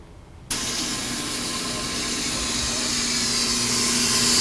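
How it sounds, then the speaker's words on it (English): A polishing machine works on a Harley-Davidson Evolution or Twin Cam engine valve. It starts abruptly after a quiet moment and settles into a steady, close whirring drone that slowly rises in loudness. No one speaks. "We're just polishing up this valve,"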